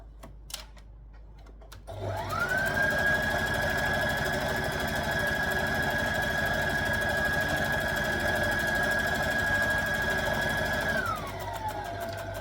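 A sewing machine stitching fabric for a dress, starting up after a few soft clicks and running at a steady, even whir for about nine seconds before slowing to a stop, close and loud.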